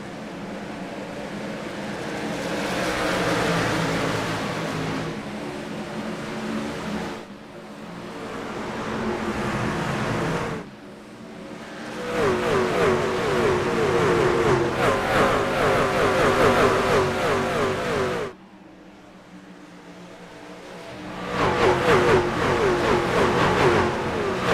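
Race truck engines in an iRacing sim race at Rockingham accelerate off a green-flag start, loud revving surges broken by abrupt gear-change drops, with no voices.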